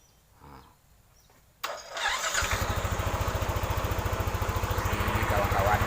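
A Yamaha NMAX scooter engine cranks and fires after the starter button is pressed, then settles into a steady, loud, rapidly pulsing idle close by, following a quiet lead-in with faint movement.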